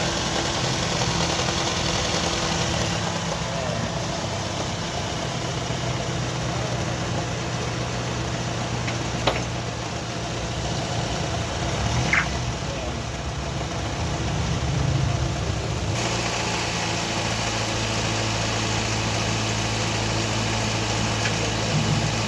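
A car engine runs steadily with light acceleration held while the air conditioning is checked for tripping, a constant close hum and vibration with a slight change in tone partway through.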